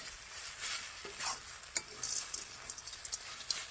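Vegetable chop mixture with nuts added sizzles as it fries in a pan while being stirred, a steady hiss broken by soft scraping and clinks, close and moderate.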